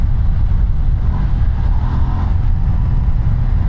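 Ducati Multistrada V2 motorcycle with its twin-cylinder engine running, a loud, deep, steady rumble heard up close while riding, with only slight rises in pitch and no talk.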